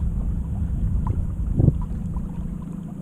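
Minn Kota 45-pound thrust electric trolling motor pushing an Old Town Sportsman 106 boat on the water, a low steady hum under wind noise and water wash, with no talk.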